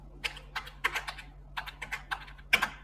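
Quick, uneven keystrokes on a computer keyboard enter a child's date of birth into an online minor PAN card application, crisp and close with brief pauses between bursts and no talking.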